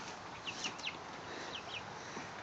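Farm chickens cluck and peep faintly in a coop, a few quick high calls scattered over steady background noise.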